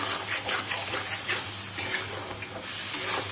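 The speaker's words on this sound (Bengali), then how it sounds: "এবারে আলুটার সাথে মশলাগুলোকে কষিয়ে নিচ্ছে।" Potatoes being stir-fried with spices in a pan for mutton ghugni, a steady broadband sizzle with soft scraping stirs and a couple of brief utensil clicks, close and continuous with no talking.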